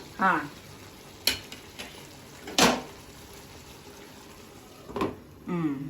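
Tomatoes for tomato pickle fry in a pan, soft sizzling beneath a few sharp clinks and stirring scrapes of a spoon against the pan, with brief bursts of talk at the start and end.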